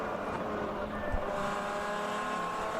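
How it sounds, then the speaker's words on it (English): Race car engine at the ChampCar Endurance Series race at Road America drones steadily from a distance as the driver works the throttle, a continuous revving hum with slight rises and dips. "right there, you can hear him working the throttle."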